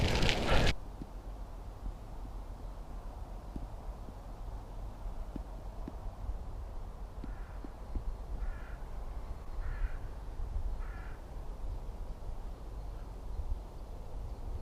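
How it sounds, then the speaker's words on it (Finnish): A crow caws a few times at a distance outdoors during a winter bicycle ride to Vantaankoski, faint against a steady background of wind and rumble. "Jossakin laulaa varis."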